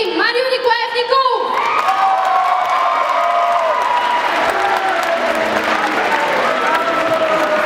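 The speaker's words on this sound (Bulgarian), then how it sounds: "Дами и господа, посрещнете с аплодисменти председателя на ученическия съвет на Първа английска езикова гимназия" Audience applause and cheering welcoming a student council president on stage at a school Christmas concert, loud and sustained, with whoops, shouting from young people and a voice over the crowd at the start.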